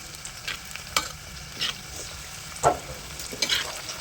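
Broad beans frying in oil over a medium flame sizzle steadily, with short bursts of scraping as they are stirred, close by and without talk.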